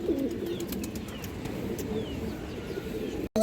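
Pigeons of an old red breed line coo in a low, continuous murmur from a loft, with brief chirps and rustling near the end.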